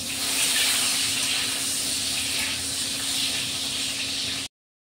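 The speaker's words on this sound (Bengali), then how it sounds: "পটলগুলো লাল লাল করে ভাজতে হবে।" Pointed gourd (potol) slices fry in oil with a constant loud hissing sizzle and a faint steady hum underneath, cutting off abruptly just before the end.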